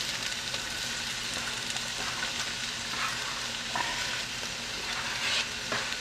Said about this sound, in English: we're going to add our onion. Oh, hear the sizzle.